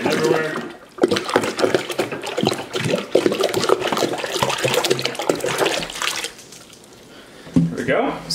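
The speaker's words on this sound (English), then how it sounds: "Now we want to add some more water, so we equalize it all out." Water is poured into a large 8-gallon batch of bochet mead, a continuous splashing, gushing stream that runs for several seconds, pauses, then resumes, with someone talking nearby.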